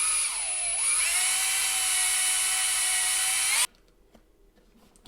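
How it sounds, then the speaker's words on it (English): Power drill bores through a broken rivet on an Alpinestars Tech-7 motorcycle boot, a loud steady high whine dipping briefly in pitch as it bites, then cutting off abruptly to near silence. "I'm just gonna drill from the inside and out just to find a hole or a center"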